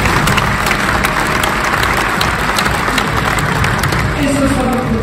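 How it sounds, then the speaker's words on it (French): Audience applauding a skipper being introduced at the Vendée Globe 2024 presentation, dense sustained clapping from a large crowd with some cheering, loud and continuous, with a voice faintly underneath. "applaudissements s'il vous plaît"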